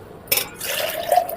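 Water poured from a vessel onto rice in a pot for beef biryani, a short close splash that settles into a brief gurgling fill, with no talking.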